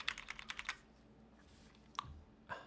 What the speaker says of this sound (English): This might be the loudest control and alt I've ever heard.